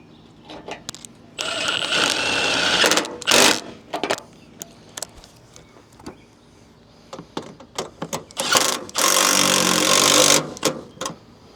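An impact driver rattles in several short bursts and one longer run as it over-tightens bolts on a Sierra truck bracket during an LED light install, close and loud, separated by clicks and handling noises.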